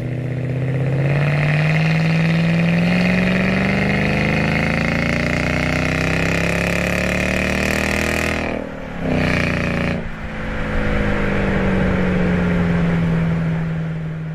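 A supercharged V8 in a Jaguar XK8 sports car revs up and holds a strong, rising engine note, dips briefly around a gear change, then settles into a steady drone, loud and close with no talk over it.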